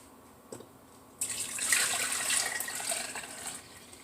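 Broth cooked in a small pressure cooker, with onion skins in it, is poured back into a pot: a steady, splashy liquid pour starts after a quiet second and runs for about three seconds, close and with no talk.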